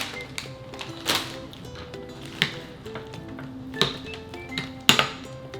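A fork mixing food with cheese in a baking dish, heard as light clinking and tapping of metal against the dish in an irregular close rhythm, with a faint tonal hum underneath and no talking.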